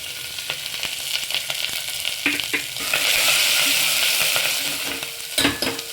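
Sliced onions and curry leaves fry in hot oil with a strong, continuous sizzle that swells partway through. A spoon stirs with scattered clicks and scrapes against the pan.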